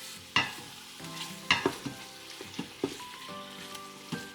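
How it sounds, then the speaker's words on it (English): Chicken sears with minced garlic in an Instant Pot, a soft sizzle under repeated scraping and clacking as a utensil stirs the pieces against the pot. "we just want to sear the surface."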